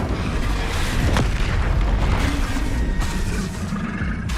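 Incendio fire spell cast in the video game Hogwarts Legacy, a loud booming magical burst with a rumbling, crackling roar that fills the whole stretch without any talk.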